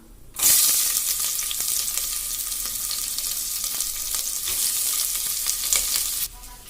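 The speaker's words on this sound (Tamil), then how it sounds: "ஆனியன் நீளமா வெட்டி வச்சு அந்த ஆனியன் இதில் ஆட் பண்ணிக்கலாம்" Long-sliced onions sizzle and fry steadily in a hot pan for Madurai-style mutton biryani, a loud continuous crackle starting abruptly and cutting off near the end, with occasional stirring scrapes and no talking.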